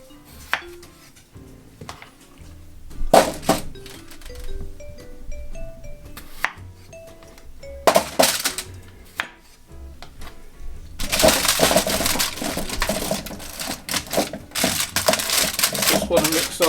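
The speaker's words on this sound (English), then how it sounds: "with our baby potatoes, we're just going to cut them in half" A knife cuts baby potatoes in half on a board during roast duck prep, with scattered sharp chops and knocks, then a denser stretch of clatter and rustling toward the end. Everything is close, and no one speaks.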